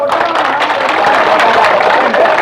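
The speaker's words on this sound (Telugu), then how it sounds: "చప్పట్లు కొట్టనమ్మా" Applause from an audience of women at a political gathering in Chagalamarri town: a steady, dense wash of many hands clapping together, loud and sustained throughout the short stretch.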